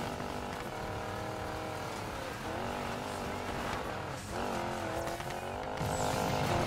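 A car in the racing game Need for Speed Payback drives with a sustained engine drone, rising and falling revs and tonal shifts, loud and continuous with game music underneath.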